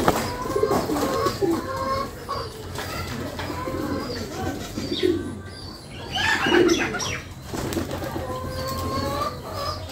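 Sirazi and Fieldback pigeons kept as a paired cock and hen coo in low, throaty bursts close at hand, mixed with soft chirps and a flutter of wings, while someone talks intermittently over them.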